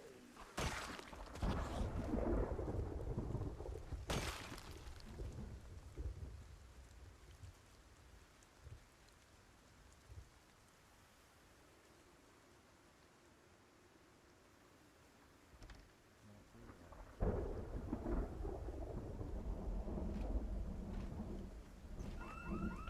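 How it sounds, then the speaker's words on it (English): Rain and thunder in a video game: a soft, steady rain bed with loud thunder cracks near the start, a quieter stretch in the middle, then heavy rumbling that builds again toward the end. "I need to tell you that thunder scared the shit out of me. The sound design in this game is amazing."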